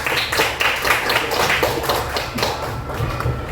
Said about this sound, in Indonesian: Berikan tepuk tangan kepada Lydia